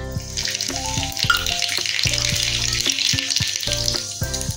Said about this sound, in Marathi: त्याच्यामध्ये आपण जिरे आणि मोहरी टाकणार आहोत।